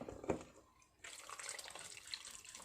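Banana blossom lifted out of salted soaking water, giving a short splash and a brief drip near the start, then a steady trickling, running-water wash that carries on to the end with no talk.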